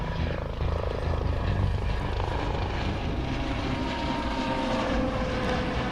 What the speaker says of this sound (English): a big helicopter flies by.